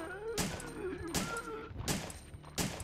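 Pistol fire in Resident Evil 3 video game: four evenly spaced sharp shots roughly every three quarters of a second, each with a short echoing tail, over a faint game background.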